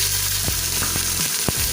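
Chicken pieces frying in a pan of golden-brown onions for dal gosht, a loud continuous close sizzle with a few sharp crackles and stirring knocks over about two seconds.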